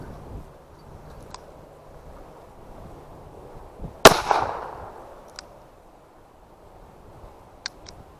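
Hand-loaded .38 Special snake shot rounds fired outdoors, one sharp loud report standing out amid faint background noise and a few small clicks, with no talking.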